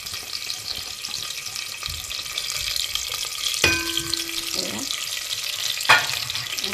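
Garlic frying in oil in a pan while being stirred, a steady soft sizzle with occasional utensil scrapes and clinks, close by and without speech.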